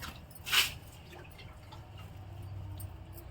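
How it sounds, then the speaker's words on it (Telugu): Water is poured into a pot holding neem leaves and hibiscus leaves and flowers, giving a brief close splash followed by a faint trickle against a quiet background. "వాటర్ అనేది వేస్తున్నాను"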